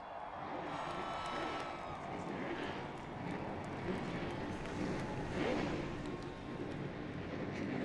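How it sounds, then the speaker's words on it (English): Engines roar continuously alongside a cheering crowd at Texas Motor Speedway before a 2009 NASCAR Camping World Truck Series night race, a dense, steady wash of noise that swells briefly midway, with no clear speech. "The roar of the engines, the roar of the crowd."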